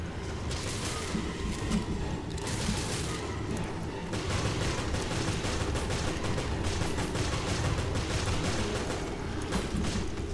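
Repeated gunfire in the video game Resident Evil Revelations, dense bursts of shots and booms crackling continuously at steady volume through the whole stretch, with no talking.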